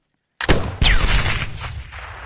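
Sniper rifle fire in a video game: two sharp, loud reports about half a second apart, each followed by a ringing, reverberant tail, with no talking.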